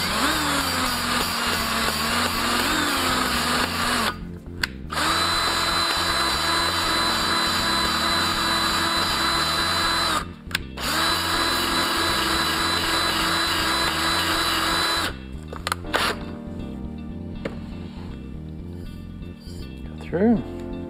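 An electric drill spins steadily to lap an exhaust valve into an LS 862 cylinder head, a droning whir broken by three short pauses, with a voice speaking over it.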